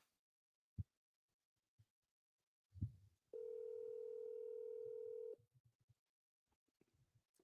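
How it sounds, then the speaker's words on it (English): A telephone dial tone sounds steadily for about two seconds, preceded and followed by faint handset clicks and taps in an otherwise quiet room. "Why does my phone take forever to dial from here?"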